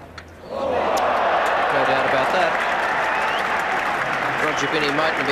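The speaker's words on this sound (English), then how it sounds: "there'll be lots of applause for Graham Gooch, who has held the England innings together" Cricket crowd at a 1986 England v India Test bursts into loud, sustained applause for England batsman Graham Gooch, rising sharply after a brief quieter moment and holding steady with scattered cheers throughout.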